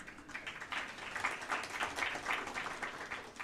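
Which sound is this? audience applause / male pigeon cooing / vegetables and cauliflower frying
audience applause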